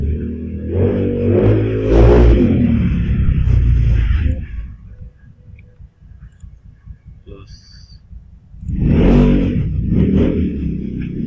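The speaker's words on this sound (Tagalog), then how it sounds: "Ang iingay po ng motor." Motorcycle engines rev loudly nearby, rising and falling, fading to a low idle in the middle before another loud rev returns.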